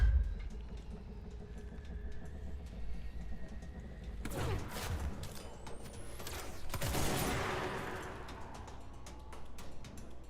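Gunfire in the action video game Control: a quiet backdrop of faint clicks gives way to a dense, loud burst of rapid shots and impacts midway, then tails off.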